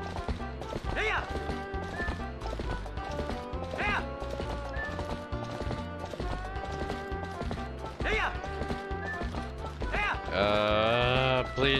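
Goats bleat while being herded in the video game Twilight Princess, wavering cries rising several times over busy background music and clopping hooves, with a louder, drawn-out bleat at the end.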